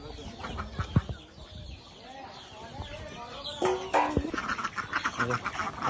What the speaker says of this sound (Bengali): অনেকগুলো মুরগি আছে আমাদের।